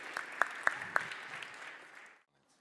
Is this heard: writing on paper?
no